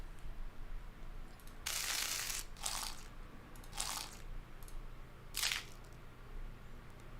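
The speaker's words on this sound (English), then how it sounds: "We need one crunch sound, okay?" Crunching sound effect for a demonic creature in a Zelda and Resident Evil style game: four sharp, close, crisp crunches in an uneven rhythm, set against a quiet low hum.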